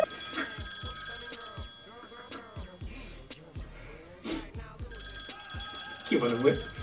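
A telephone rings with a repeating electronic bell tone, heard in short bursts underneath overlapping conversation and background chatter.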